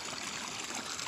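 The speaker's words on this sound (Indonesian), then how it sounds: "kembali lagi yang mengalir air di sini, yang bekas sungai kecil ya di pertengahan kebun ini" A small stream running through the middle of a garden plot makes a soft, continuous trickling and babbling of flowing water, faint and without speech.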